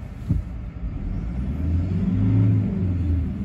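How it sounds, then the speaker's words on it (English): A steady, low diesel engine rumble idling smoothly at close range, with a soft mechanical whir and no voices; the engine, turbo and injectors are new. "You'd have trouble convincing people it was a diesel engine."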